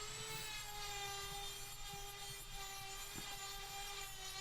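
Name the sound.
Dremel grinder with drum sanding wheel smoothing metal edges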